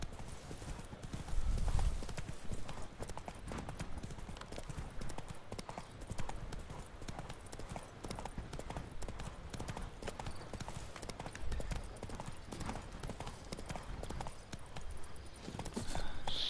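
Horse hooves clip-clop in The Witcher video game, a steady, even trot that carries through the whole stretch under faint game ambience.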